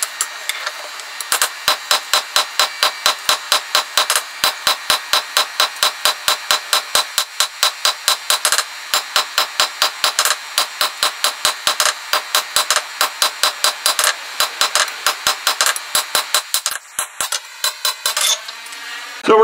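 A Damascus knife blade is hammer forged flat, with rapid, regular, close metallic blows ringing out in a long, steady run and a short break near the end.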